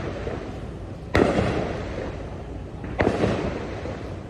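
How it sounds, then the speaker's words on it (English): Fireworks going off in the distance outdoors, two sharp booms about two seconds apart, each with a short rumbling tail over steady background noise. "Who the fuck still has fireworks?"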